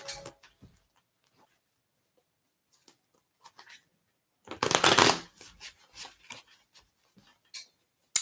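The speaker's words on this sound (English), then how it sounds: "Let me shuffle the cards good." Scattered soft taps and clicks of playing cards being handled, then a short, loud riffle shuffle, followed by more light tapping.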